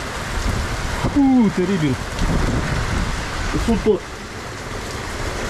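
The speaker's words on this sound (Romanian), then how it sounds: "Bate ploaie de prispă." Heavy rain hammers a cabin porch in a violent storm, a steady broadband roar throughout, while a voice exclaims briefly over the downpour.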